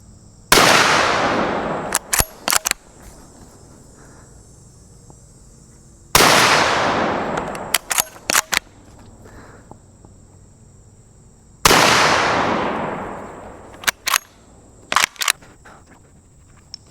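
Three loud rifle shots from an unsuppressed .36 caliber rifle, evenly spaced several seconds apart, each a sharp crack trailing off outdoors, followed by quick metallic clicks of the action.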